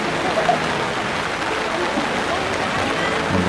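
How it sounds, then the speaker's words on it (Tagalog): Heavy rain pouring down at a campsite in Daraitan, a steady dense hiss of falling water that fills the whole clip at an even, loud level. "Sobrang lakas ng ulan."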